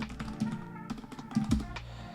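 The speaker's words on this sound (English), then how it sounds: "I'm typing horrible today" Quick, uneven clicks of a computer keyboard being typed on up close, with a low hum in the background.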